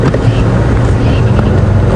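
A safari vehicle's engine rumbles steadily and loudly while it creeps slowly through a game reserve, a continuous low drone with wind buffeting and no clear talk.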